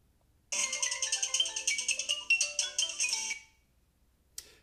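Tuned cowbells ring out together with a mallet instrument in a quick, bright run of struck metallic notes lasting about three seconds, followed by silence and one short final tap.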